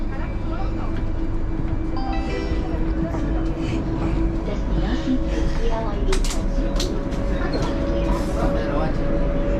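Steady low rumble of a train departing KLIA 1 airport station in Malaysia, with continuous mechanical hum and occasional high squeals, while a person talks over it.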